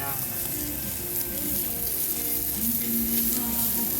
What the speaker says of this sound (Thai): ย่างให้สุกก่อนแล้วก็จะเป็นหมูสามชั้นนะครับ